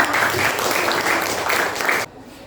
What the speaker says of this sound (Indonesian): Nah, ini kasih tepuk tangan.